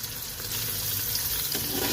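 Garlic, about a teaspoon, sizzles and fries in hot oil for a moong dal tadka, a steady close crackling hiss that holds on its own for the whole moment with no talking.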